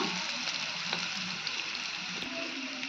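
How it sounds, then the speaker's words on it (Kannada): Onions fry in a pan, giving a soft, continuous sizzle with occasional faint stirring clicks and no talking. "ಈಗ ನೋಡ್ರಿ ಉಳ್ಳಾಗಡ್ಡಿ ಫ್ರೈ ಆಗ್ಯಾವ್ರಿ"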